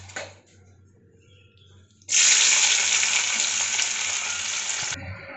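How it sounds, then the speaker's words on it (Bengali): Morola fish are dropped into hot oil, and a sudden loud, steady sizzle erupts after a quiet start, then holds close and bright until it drops away at the end. "এখানে তেল গরম হয়ে গেছে, মাছগুলো ছেড়ে দিচ্ছি।"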